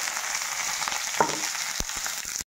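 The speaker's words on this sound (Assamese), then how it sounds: "তেলটো গৰম হৈ গৈছে, কেইটামান গোটা জিৰা দি দিছো।" Whole cumin seeds crackle and sizzle in hot oil, a dense continuous frying hiss with a couple of sharp pops and a stirring scrape, close and without talk.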